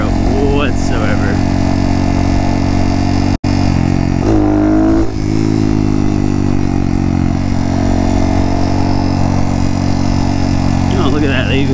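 A Honda Monkey motorcycle engine runs loud and steady on a trail, with a sharp cut-out and a brief rise in revs partway through before it settles back to a sustained drone.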